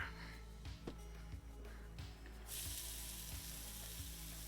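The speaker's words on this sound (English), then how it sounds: "I'm going to put the onion straight in there to soak up all that beautiful beef flavor." Onion dropped into hot canola oil and beef juices fries with a steady close sizzle, a broadband hiss that swells louder midway, with faint low knocks and scrapes of a utensil in the pan.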